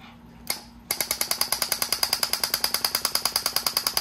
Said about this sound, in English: Okay, this is a 12-volt recoil.